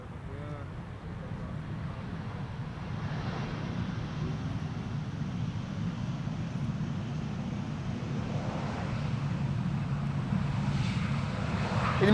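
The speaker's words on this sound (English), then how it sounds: "a Transavia just now landed and passed by, which you can pick up on the mic" Transavia airliner passing after landing at Amsterdam Schiphol, a steady, broad engine roar that slowly builds over several seconds, with wind buffeting the microphone.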